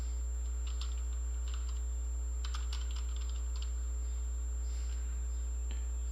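Keys clacking on a computer keyboard as a name is typed, short clusters of light taps over a steady electrical hum.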